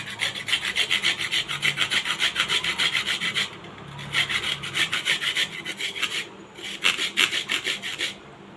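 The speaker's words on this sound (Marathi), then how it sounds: "याच्यावर हे पूर्ण खोबरा किसून घ्यायचा आहे" Coconut is grated on a fine grater in quick, regular rasping strokes, close and fairly loud, in bursts separated by two short pauses and with no talking.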